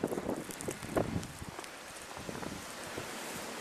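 A gust of wind during a blizzard buffets and rushes past, with a few louder gusty bursts early that settle into a softer, steady blowing.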